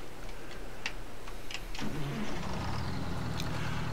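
A truck engine starts in the video game Farming Simulator 22: a brief cranking, then the motor catches and settles into a steady mid-pitched idle.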